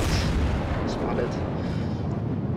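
Naval gunfire from a Mikasa battleship's secondary guns in World of Warships, heard as a dense, continuous rumble of booming shots with a voice talking over it throughout.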